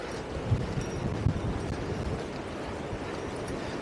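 Wind blowing through Newborough Forest on Anglesey, a steady low rumble buffeting the microphone with a couple of soft gusty thumps, faint and without talk.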